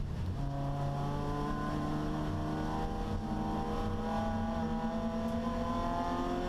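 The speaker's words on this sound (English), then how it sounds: "Nice to hear the sound of the Toyota 86 hard at work." A Toyota 86 production touring car at Sydney Motorsport Park runs hard at full throttle, with a loud, continuous onboard engine drone and steadily climbing revs.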